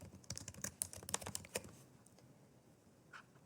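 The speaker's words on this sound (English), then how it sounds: "we're going to type our name in the signature section as well" Quick bursts of computer keyboard typing while a name is entered into the signature section of a form, close and crisp, trailing off into near silence after about two seconds.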